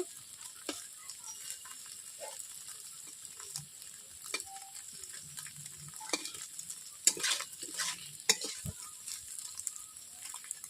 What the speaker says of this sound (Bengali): আমি পনিরগুলো কেমনভাবে ভাজছি।